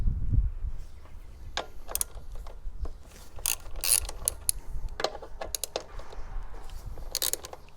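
A ratchet fitted with a T45 Torx socket loosens frame bolts on a Husqvarna 701 motorcycle during crash bar installation, giving repeated close, sharp clicking bursts with brief pauses between strokes.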